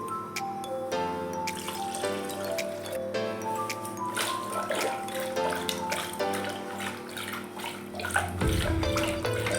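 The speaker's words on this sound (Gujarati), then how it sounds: "હવે એને આપણે થોડું પાણી નાખીને ગોલવી લઈશું" Cooked dal for a sweet-and-sour Gujarati recipe is churned with added water. The sloshing and swirling is steady and close, with faint clinks and gurgles and bright tonal ringing throughout, and a louder rumble near the end. No one speaks.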